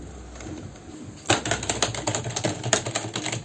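Rapid, irregular key clicks start abruptly and continue in a dense clattering burst, close to the microphone, with no talking.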